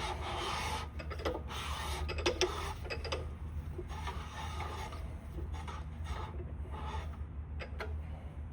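A counterbore cutter grinds and rasps through an engine block's piston liner bore in a steady final cutting pass, with a low motor hum underneath and scattered scraping bursts.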